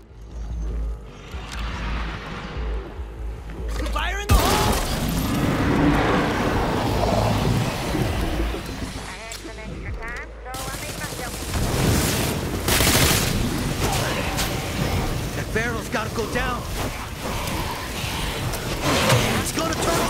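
A plague buster explosive going off in the video game State of Decay 2, a loud booming blast followed by sustained chaotic gunfire and crashing, with excited talking mixed throughout.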